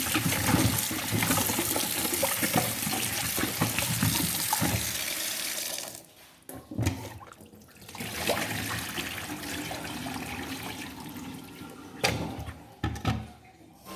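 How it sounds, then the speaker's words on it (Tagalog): Clean water pours into a cooking pot over washed corn cobs, a steady loud gush and splash that drops off briefly midway and then resumes, with a few clunks near the end. "lagyan na po natin ito ng malinis na tubig"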